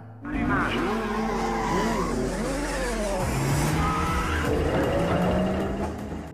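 Cars tear through an illegal street race in a film scene, with loud close engine revving, rising pitch sweeps as they accelerate and tire squeal, continuous throughout.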